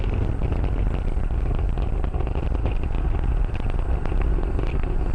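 Falcon 9 Merlin engines roar steadily during a launch, a dense continuous rumble with crackle, heard from onboard as the first stage throttles down ahead of max Q.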